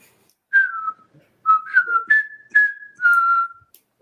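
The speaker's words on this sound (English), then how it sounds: "That's the song that they whistle." A whistled tune plays in short melodic phrases of sliding, clear notes with brief pauses between them. It is fairly close and heard alone, with no talking.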